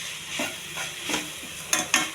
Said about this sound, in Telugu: అడుగట్టకుండా ఉండాలంటే ఇలా కలుపుకుంటూ ఉండాలి.